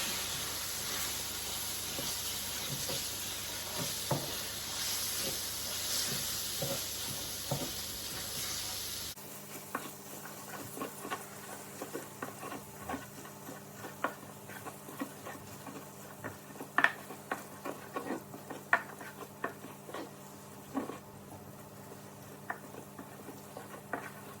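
Taco bowl filling cooking in a pan makes a soft, steady sizzle and hiss with scattered pops and light stirring clicks throughout, fairly quiet and with no talking.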